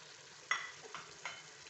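Cooked mutton with the remaining spices is stirred in a pan for bhuna gosht. Three faint scrapes sound over a quiet, steady sizzle in a short stretch with no voices.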